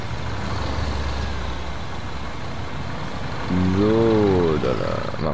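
A truck idles and rolls in a bus-driving video game, a steady engine drone running throughout, with a rising whine or horn-like tone sweeping up near the end, fairly loud and close.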